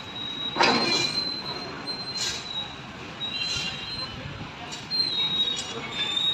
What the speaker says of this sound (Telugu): యథావిధిగా మామూలుగా ట్రైన్లు అయితే పోతున్నాయి